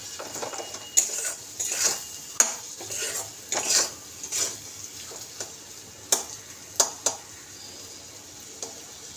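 Tomatoes being sautéed in a pan for a fish curry, a series of sharp metallic clanks and scrapes from a utensil against the pan over a faint sizzle.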